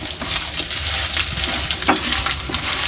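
Ingredients for a gongura pickle fry steadily in a pan, giving a continuous dense sizzle with small crackles and pops throughout, close and moderately loud, with no talking.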